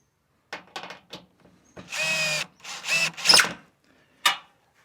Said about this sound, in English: just go around and tighten every nut and bolt